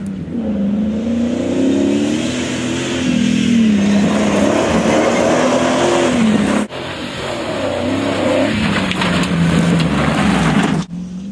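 A Supacat Wildcat military 4x4 with a V8 engine accelerates hard on a test track near Taunton, its loud, close engine note climbing and wavering through gear changes with a brief break partway through.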